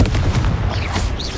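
Booming Confringo explosive spell impacts from Hogwarts Legacy, heavy rumbling blasts with sharp cracking bursts in quick succession, loud and close throughout.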